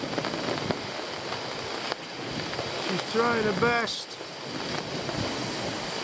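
Wind and rain buffet an open lakeside at Lake Bala during pike fishing, a steady broadband rush that fills the whole stretch, with someone speaking briefly partway through.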